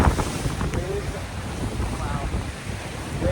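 Rough storm seas surge along the shore under strong gusting wind that buffets the microphone, a continuous roar of waves about 6 to 8 feet high with no distinct breaks.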